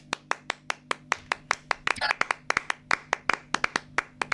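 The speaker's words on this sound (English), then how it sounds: "We're supposed to clap for this" A few hands clap in a steady, evenly spaced rhythm on a sports talk show, close and crisp, with a brief rustle of voices partway through.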